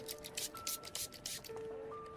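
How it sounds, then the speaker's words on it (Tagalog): Alcohol is sprayed onto a helmet in a series of quick, hissing spritzes, close and fairly soft. A faint tonal hum runs underneath. "Pero sprayan ko po ulit sandali ng alcohol bago niya isuot."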